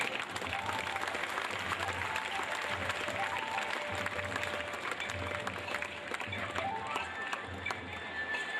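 An audience at a Nath community felicitation event gives a long round of steady, dense applause for an honoured guest, with clapping filling the hall evenly throughout and no voices over it.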